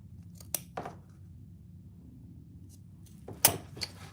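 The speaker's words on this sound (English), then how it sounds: "So you can see I cut some slits." Scissors cut slits into a fabric oven mitt in a few quiet, crisp snips, a pair early on and another cluster after a pause, against a near-silent room.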